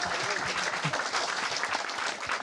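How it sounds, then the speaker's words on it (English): Applause fills a lecture hall as an audience claps steadily for a guest, a dense, moderately loud wash of hands with a few faint voices mixed in. "Let's give him another round of applause."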